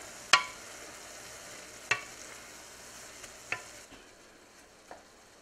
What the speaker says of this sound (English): We're gonna stir those in and cook those for just a few minutes.